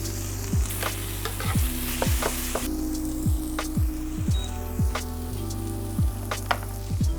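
Chopped peppers and white onion sizzle in a pan, a constant crackling fry with sharp pops and scraping stirs on top of a strong, steady low hum.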